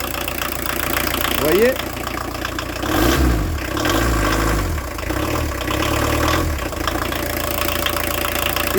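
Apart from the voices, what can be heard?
VW T3 diesel engine idling rough, lacking injection pump timing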